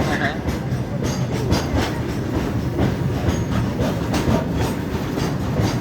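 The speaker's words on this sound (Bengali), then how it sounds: "ওটা কি যাচ্ছে হ্যাঁ ট্রেন যাচ্ছে" A passing train rumbles loud and close, its wheels clacking in steady rhythm for the whole stretch, with a voice faintly audible beneath the noise.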